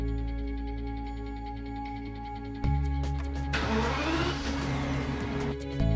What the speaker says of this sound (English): Start the vehicle and run the engine for at least 2 minutes.